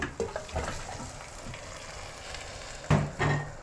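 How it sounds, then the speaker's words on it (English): Stock is poured into a pot of Nigerian okra soup and stirred, giving a soft, close sloshing and bubbling with occasional spoon scrapes and splashes. "So now we are going to add our stock"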